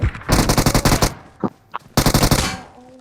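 Rapid bursts of automatic gunfire in PUBG Mobile, two long rattling volleys separated by a pause with a couple of isolated shots, loud and close.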